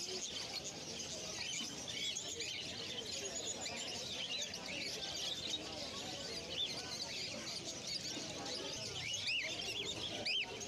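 A dense, continuous chorus of small birds, including finches and cockatiels, chirps and tweets at a pet bird market in Kolkata, with faint background noise underneath.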